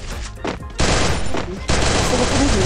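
Gunfire in the video game Free Fire, rapid bursts of automatic shots in quick succession with loud onsets, heard alongside a player talking.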